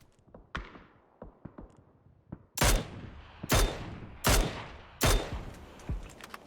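Rapid bursts of gunfire in a PUBG match, starting with several lighter shots and then four loud, sharp reports spaced about a second apart, each trailing off into a short echo.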